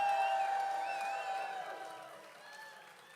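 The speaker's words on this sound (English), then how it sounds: "Give him a round of applause." Audience applause at a roast-style tribute show, a burst of clapping and cheering from the crowd that starts loud and gradually fades over a few seconds.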